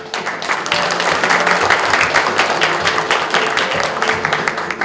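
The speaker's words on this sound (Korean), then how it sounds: "한 분 한 분 소개될 때마다 따뜻한 환영의 박수로 맞이해 주시면 고맙겠습니다." A crowd claps steadily and warmly, a dense, sustained round of applause welcoming introduced guests at a smart factory opening ceremony in Daegu, swelling early and holding for several seconds.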